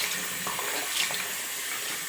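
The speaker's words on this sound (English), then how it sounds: "You're rinsing everything. The weft, the hair." Hair extensions are rinsed under a running tap, a steady hiss of flowing water that continues without a break at moderate level.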